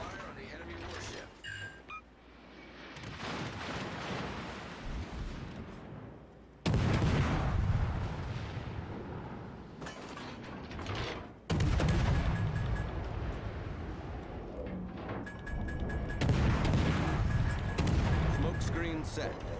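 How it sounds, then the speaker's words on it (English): Heavy naval guns boom and rumble in the World of Warships Legends game, several loud, abrupt blasts with sustained roaring tails, sounding over in-game voice callouts. "Concentrate fire on the enemy warship."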